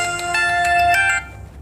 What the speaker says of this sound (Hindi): ये इसकी बेल की आवाज़ है